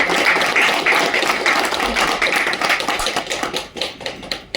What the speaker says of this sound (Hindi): जोरदार ताली यार।